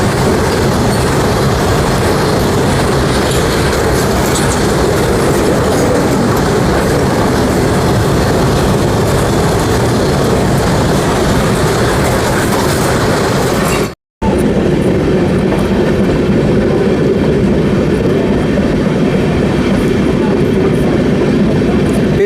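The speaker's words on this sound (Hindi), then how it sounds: "वंदे भारत के साथ साथ पैरेलली क्रॉसिंग हो रही है फ्रेट ट्रेन के साथ" A freight train passes alongside a moving Vande Bharat train, a loud, close, steady roar of rolling wheels and rattling cars with faint clickety-clack, continuous for about twenty seconds with a brief dropout midway.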